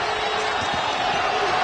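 Arena crowd noise at a BYU vs Alabama Sweet 16 basketball game in Newark, a steady broad roar of spectators swelling slightly, with faint bouncing and shouts mixed in throughout.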